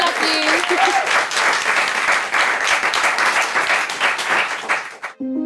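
A studio audience breaks into sustained, loud applause, dense clapping that holds steady for several seconds before cutting off abruptly, with a host's voice briefly audible at the start.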